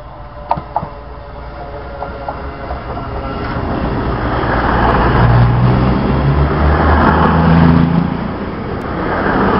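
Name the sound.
CrossCountry train at Didcot Parkway station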